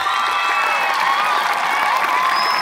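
Crowd at the AeroShock 2021 show cheers and applauds for the director, a dense steady wash of clapping with shouts and whoops, loud and sustained throughout.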